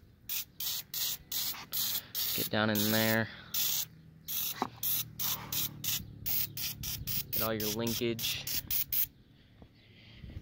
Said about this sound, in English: get your engine degreaser and just start spraying the heck out of it everywhere